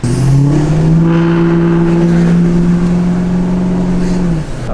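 Lifted pickup truck with an L5P Duramax diesel engine driving, a loud close steady drone that rises and holds at a strong pitch before easing off at the end.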